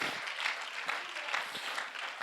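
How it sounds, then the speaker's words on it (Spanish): Church congregation clapping for the Lord during a service, a quiet, continuous patter of many hands, somewhat distant and even throughout. "Dele un aplauso al Señor, hermano, en esta hora"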